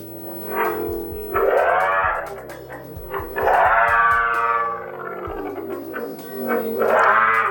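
Warbling, synthetic electronic tones from an Ola S1 Pro electric scooter's futuristic sound mode swell and fall in long wavering sweeps with echoey effects, punctuated by sharp clicks.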